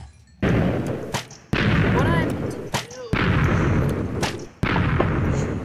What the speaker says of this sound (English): all I can see is just colorful explosions